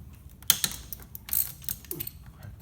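A ratchet wrench cracking loose an injector bolt on a 150-series Toyota Prado engine, a sharp snap followed by short clicking ratchet strokes and faint creaks, close and fairly quiet.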